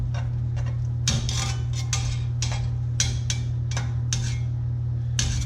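A utensil scrapes and clinks against a pot as chicken pieces for coq au vin are turned over, a dozen or so sharp irregular metallic knocks over a steady low cooking hum.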